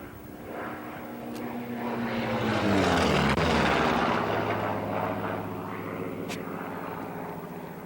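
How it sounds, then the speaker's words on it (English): A Navy F4U Corsair and a PV-2 Harpoon, both propeller warbirds, fly past in loose formation with a loud droning engine roar that swells as they pass, then fades, with a Doppler drop in pitch. "Flying in loose formation with the F-4U Corsair is another Navy warbird, the PV-2 Harpoon."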